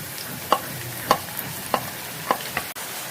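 Marinated beef fries with chopped onions in a pan, a low hiss under a spoon scraping and stirring in five or six distinct strokes, close and clear with no talk.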